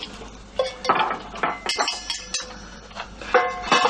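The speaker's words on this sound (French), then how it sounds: "Moi, je fais la vaisselle." Dishes and cutlery clink and clatter during washing up in a kitchen, busy overlapping knocks and rings with running-water hiss, fairly close and loud.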